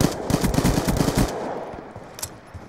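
Rapid automatic bursts of light machine gun fire in Black Ops 2 Gun Game, dense and loud for over a second, then cutting to sparse distant shots and quieter game ambience.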